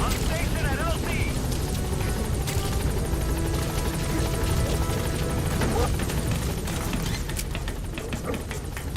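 The B-Quad support helicopter in Metal Gear Solid V roars in toward the landing zone, a loud, continuous rotor thrum and engine rumble mixed with gunfire bursts and radio voices.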